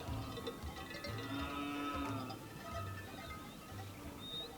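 Maasai cattle low in the Ngorongoro Conservation Area, several short moos repeating at regular intervals at moderate distance over outdoor ambience, with a faint bird call near the end.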